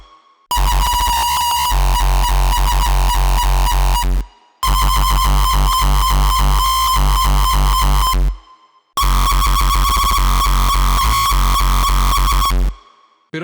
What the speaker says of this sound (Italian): Questi kick hanno una distorsione molto zanzarosa.